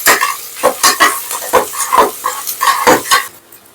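Whole spices, including cloves, cardamom, bay leaf and cumin, fry in a pot for chicken dum biryani, while a spoon stirs in loud, quick rhythmic scrapes over a steady sizzle, close up and with no talk.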